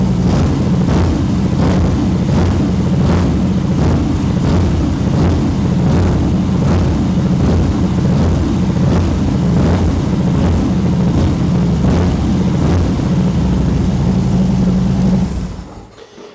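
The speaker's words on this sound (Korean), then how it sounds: "이 차량 슈버트의 풀 시스템 머플러로 배기 사운드가 굉장히 파워풀합니다" A 2017 Harley-Davidson Dyna Street Bob with a Schubert full-system muffler rumbles loudly and up close, its deep V-twin exhaust pulsing steadily with rhythmic throbs before cutting off abruptly at the end.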